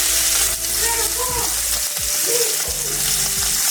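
Tri tip steaks sizzle loudly in a hot pan, a dense constant frying hiss with occasional scrapes and clunks of handling, close up and without talk.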